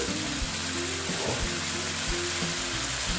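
Soybean and egg curry sautéing in a pan with potatoes, a steady close sizzle and frying crackle running evenly throughout with occasional stirring.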